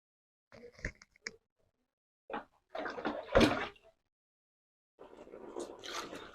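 Water from a bucket splashes down in short bursts during a bath, a couple of brief pours followed by a heavier gush and a longer spill, close and fairly quiet with silent gaps between.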